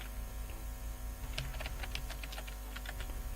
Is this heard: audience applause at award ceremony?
no